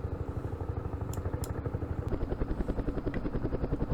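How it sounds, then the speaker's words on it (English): Military helicopters in the wargame Campaign Series Middle East, a fast rhythmic rotor thump that swells louder partway through, with a few brief clicks and no talk. "Our helicopters. Put them all in the same hex. Fly them up here."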